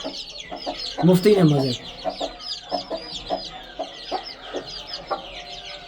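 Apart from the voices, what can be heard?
chickens and chicks clucking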